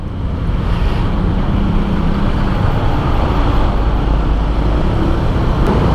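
Dense midday traffic jam around a Honda PCX 160 scooter on test ride, a steady broadband roar of engines and road noise holding at constant loudness throughout, with no talk.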